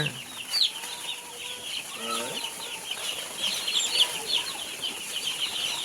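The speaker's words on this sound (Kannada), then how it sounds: "ಒಂದು ಬ್ರೂಡಿಂಗಲ್ಲಿ ಏನಿಲ್ಲ ಅಂದರೂ ನಾನ್ನೂರೈವತ್ತು ಮರಿ ಇದೆ" First-day chicks in a new poultry farm brooder shed, a dense chorus of high chirps and peeps continuing throughout, with a voice speaking briefly underneath.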